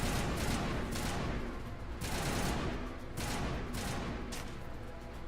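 Rapid gunfire crackles in bursts in the video game Mass Effect Legendary Edition, a dense and continuous barrage of shots for several seconds with no talking.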